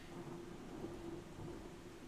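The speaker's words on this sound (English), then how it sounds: "I'm waiting for thunder to pass on my side." Low rolling thunder rumbles steadily in the distance, a soft continuous roar with faint rain hiss over it and no voices.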